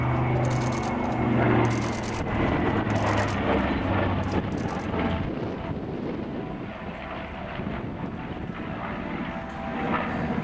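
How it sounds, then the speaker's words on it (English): B-25 bomber flying a display at RIAT air show, a broad sustained engine roar that swells and fades with wind buffeting on the microphone, continuous throughout. "Lieutenant Colonel Jimmy Doolittle led 16 of these aircraft off the USS Hornet for the first strike of the war against mainland Japan."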